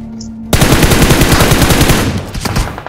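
Rapid bursts of automatic gunfire in the battle royale game BGMI erupt suddenly after a brief quiet hum, sustained and loud, trailing off into scattered shots.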